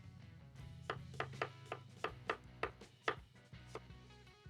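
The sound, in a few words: chopping food with a knife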